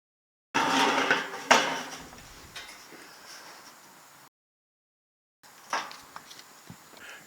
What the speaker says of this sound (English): Now I'm going to locate a piece of tin on the top.